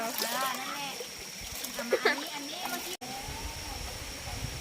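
Water splashes in a clear stream at a Phang Nga hot spring spot, a few brief splashes and steady trickling beneath people chatting nearby.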